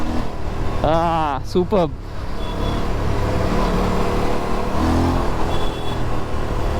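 An Aprilia RS457 motorcycle accelerates hard, its engine rising in pitch through the revs and then holding a steady roar, with a brief spoken exclamation from the rider.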